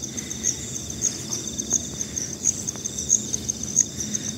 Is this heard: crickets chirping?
yes